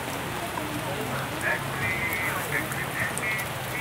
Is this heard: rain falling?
yes